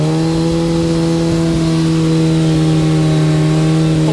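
A 2022 Suzuki Hayabusa fitted with a Brock's exhaust idles and revs loudly up close, a steady deep engine drone with rising and falling revs and no voices.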